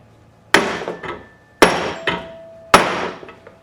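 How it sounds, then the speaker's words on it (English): Three heavy rubber mallet blows on a water pump mechanical seal of a Honda CX500 motorcycle, evenly spaced about a second apart, each with a short ringing decay and faint bounce. "Thinking a rubber mallet should do the trick."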